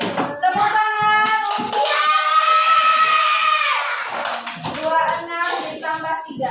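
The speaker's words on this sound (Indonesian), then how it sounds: "Tepuk tangan." A class of children in a maths lesson claps together, the claps mixed with their loud, sing-song group chanting, close and lively.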